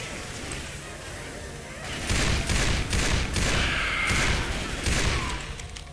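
Gunfire in the co-op zombie shooter Left 4 Dead: after a quieter start, rapid bursts of shots and booming blasts pound for several seconds, loud and close, with faint background game noise.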